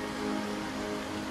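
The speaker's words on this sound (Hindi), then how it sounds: "बहुत बारिश पड़ रही है यहाँ पे" Heavy rain falls steadily at a home, a dense, continuous hiss of drops on surfaces with no break and no voices.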